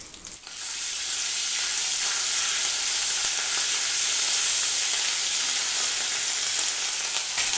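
Ginger garlic paste fries in a kadai of hot oil already holding cumin seeds and curry leaves, giving a loud, steady hissing sizzle that starts abruptly and holds throughout.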